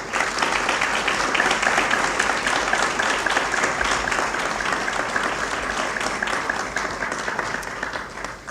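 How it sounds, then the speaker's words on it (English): Audience applause for a group of council directors at a breakfast event, steady dense clapping filling the room, held at an even level throughout with a slight fade at the end. "can we give them a round of applause again?"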